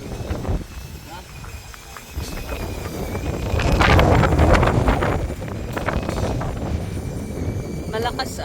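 Strong wind buffets the microphone in rough, roaring gusts at a house under construction in Daklapan, rising and falling, with a voice talking in between.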